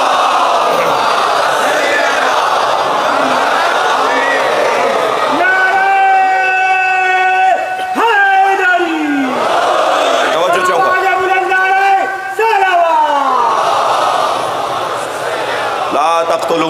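A large crowd at a religious majlis chants salawat loudly in unison, a dense sustained mass of voices swelling into long, repeated chanted phrases with no single speaker standing out.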